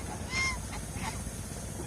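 Geese on a goose farm in Mohanganj give two loud, nasal honks about half a second apart over a steady low background murmur.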